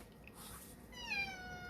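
A house cat meows once in a drawn-out, rising-then-falling call, close by and fairly quiet, over a steady low background hum with no talking.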